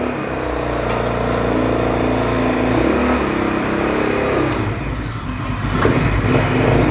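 A Big Bull 200cc GY300 off-road ATV engine runs loud and close, a sustained mid-pitched drone that swells as it revs and fades slightly toward the end, alone without talk.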